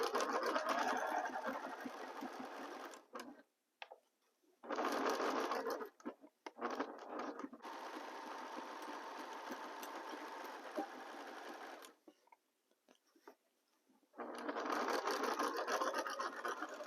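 A sewing machine stitches a ribbon in long steady whirring runs, stopping briefly a few times before starting up again, close and clear with no talk.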